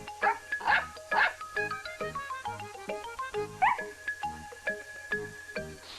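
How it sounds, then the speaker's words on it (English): A cartoon puppy named Snuffy lets out a series of short, bright, happy barks and yips. They come in a quick, bouncy rhythm, close and clear, over light musical tones. "barked happily, which meant, yes, I will be your puppy"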